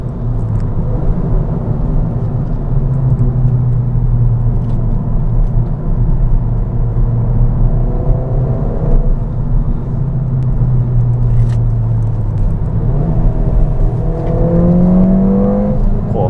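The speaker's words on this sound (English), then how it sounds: "It is very quiet, this car." A stock Ford Fiesta ST drives along an English countryside road, its engine a steady low drone with road rumble, rising in pitch as it accelerates through gears, heard from inside the cabin.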